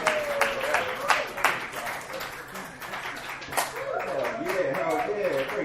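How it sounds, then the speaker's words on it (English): Comedy club audience in a dive bar applauding a comedian, a steady wash of many hands clapping with a host's voice talking over it throughout. "One more round of applause for Nick Kaminsky"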